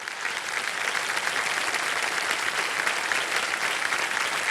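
Steady studio audience applause on a televised quiz show, a dense, even wash of clapping that holds at full strength throughout with no talk over it.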